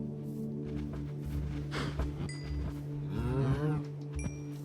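Minecraft cows mooing on a farm in the game: two soft, drawn-out moos, fairly faint, over a low steady hum of background tones, with no talking.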